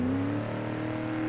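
A street-racing car engine in a video game drones at a steady high pitch, with a single engine tone held evenly through a short stretch of play.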